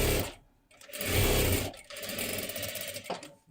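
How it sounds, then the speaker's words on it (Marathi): A sewing machine runs in loud bursts with short pauses, stitching a double seam on sari fabric along the lining cloth during one-piece cutting and tailoring. "परत ह्याच्यावरती डबल शिलाई देऊन घ्यायची."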